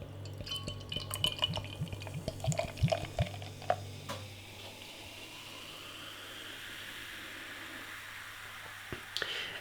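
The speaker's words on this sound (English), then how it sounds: "Listen to the glug as I pour it." Dugges Imperial Coffee Stout, thick and heavy, pouring from a bottle into a glass with a few liquid glugs and clinks over the first four seconds, then only quiet room tone.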